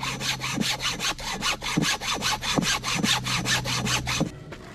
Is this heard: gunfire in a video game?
no